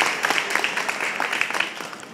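Audience applause at a formal fashion show event, heard as a dense, steady patter of many hands clapping in a room, fading slightly toward the end.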